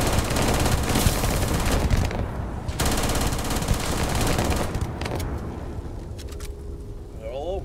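Rapid automatic gunfire rattles loudly in the Starfield video game, dense bursts for several seconds before thinning into scattered shots and electronic zaps, with a voice shouting over the action.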